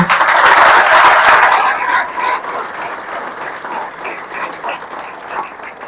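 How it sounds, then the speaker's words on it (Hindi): Loud audience applause for the staff at a college lecture in Pune, a strong burst of clapping that peaks early, then settles into lighter, scattered claps. "इनके लिए जोरदार तालियां दीजिए और स्टाफ के लिए तालियां दीजिए"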